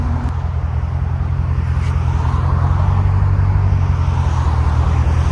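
A 1989 Chevy C4 Corvette 5.7L V8 with high-flow cats and a Borla ProXS exhaust idles nearby, a deep, steady, loud rumble that holds even throughout.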